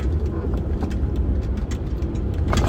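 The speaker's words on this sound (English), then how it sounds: "When I move off in first, what I'm doing is catching the gear and then like getting on." A car pulls away in first gear with a low, rumbling engine drone and road noise that stay fairly loud and steady, rising a little toward the end, and no one speaks.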